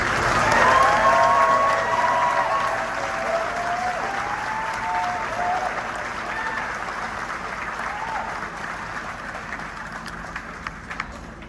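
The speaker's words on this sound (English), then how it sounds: "We have a big round of applause for these guys." A big round of applause from a crowd at a county fair for a student honors band, steady dense clapping that starts loud and slowly tapers over several seconds.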